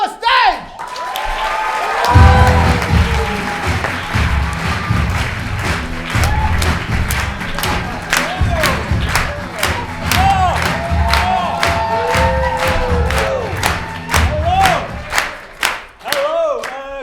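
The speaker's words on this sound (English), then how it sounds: "please give a huge, supportive round of applause for Do Not Adjust Your Stage!" A live audience at the Copenhagen International Improv Fest breaks into loud, sustained applause and cheering with whoops for an improv group taking the stage, the crowd noise filling the hall throughout, with some voices rising over it.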